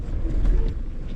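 A four-wheel-drive vehicle's engine revs hard on a muddy descent of Castle Track, a steady low rumble and drone that stays loud and close throughout, with no voices over it.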